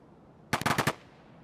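Short burst of about five rapid gunshots from a pistol in a tactical shooter game, sharp and fairly close, ending in a quick fade with no talk.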